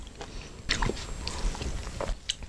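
Someone bites into a whole lemon up close, with a couple of crisp, wet crunches of peel followed by soft chewing.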